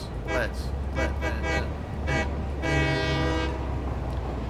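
A steam train horn toots repeatedly in the game Satisfactory, several short blasts and one longer held blast over a low rumbling engine, with a voice talking in the background.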